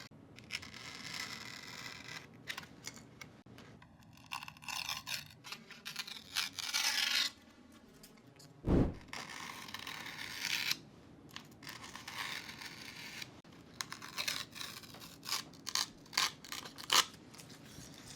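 A razor blade slicing paper along a template on the wing of a Mighty Mini P-40 model kit, with repeated short scratchy cutting strokes and tearing scrapes, close and alone.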